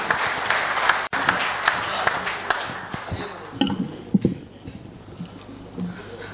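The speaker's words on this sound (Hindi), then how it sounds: "तालियों से स्वागत करें मदन मोहन शर्मा अरविंद" Audience applause welcoming poet Madan Mohan Sharma onstage at a Hindi-Urdu kavi sammelan and mushaira, a dense spread of clapping that thins into scattered claps and murmurs toward the end.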